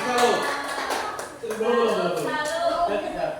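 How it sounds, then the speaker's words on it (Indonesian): Classroom applause at a peer-teaching presentation comes as a brief burst of clapping, mixed with people talking over it and a rhythmic salute chant. "Sekian dari kami, minta tepuk tangan dulu. Ya, tepuk tangan."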